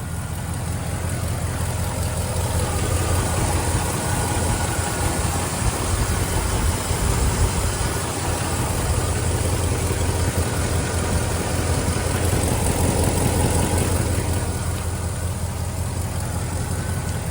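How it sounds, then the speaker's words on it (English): A 1969 Pontiac Grand Prix's 400 cubic inch four-barrel V8, rated at 350 horsepower, idles loud and close in a steady, unbroken rumble with no voices. "it is equipped with a 400 cubic inch displacement V8 engine"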